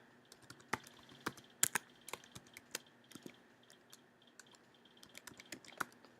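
Quick, uneven keystrokes clatter on a computer keyboard as an email address is entered, close and fairly quiet with small pauses between bursts of typing.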